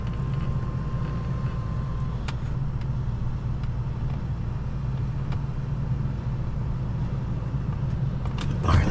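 A V6 car engine cold-starting and running with a steady, loud low rumble close by throughout, swelling slightly at the end.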